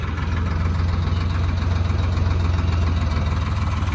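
A Ford tractor engine idles nearby with a steady low chugging rumble and rapid even pulses, no voices.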